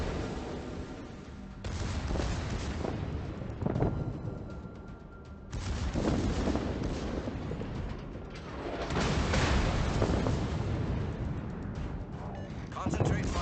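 Secondary guns on the battleship Großer Kurfürst firing nonstop during a naval battle in World of Warships, a dense rumbling barrage of overlapping blasts that stays loud throughout, with brief lulls, under a voice.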